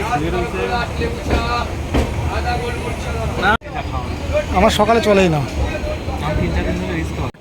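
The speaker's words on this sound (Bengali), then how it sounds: "ট্রেন ছেড়ে দিল আমরা এখন রয়েছি খড়গপুরে" A Gyaneshwari Express train pulls out of Kharagpur station with a low rolling rumble and rattle running under nearby conversation throughout.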